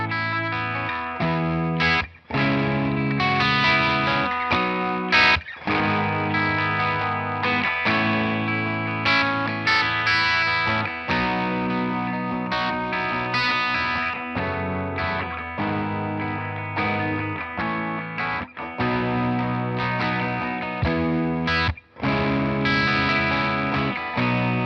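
Electric guitar played through a Boss OD-3 overdrive pedal with its tone control being adjusted, giving a steady, loud stretch of distorted chords and riffs with a few brief gaps, no voices.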